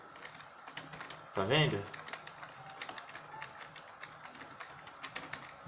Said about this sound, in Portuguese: tô teclando o teclado tá ligado